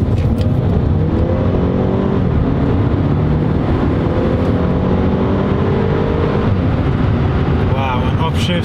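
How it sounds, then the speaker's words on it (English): Loud engine and exhaust from a Mercedes A250 four-cylinder in sport mode, heard from inside the cabin with the panoramic sunroof open; revs climb and fall through shifts, with a crackle near the end. "Let's open the panoramic sunroof so you can hear how the exhaust and engine sounds."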